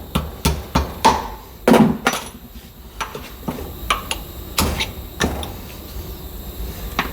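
Hammer blows knock bushings out of a 1967 Porsche 912 suspension: a series of sharp, irregular metallic strikes, some doubled, close and loud with brief ringing between hits.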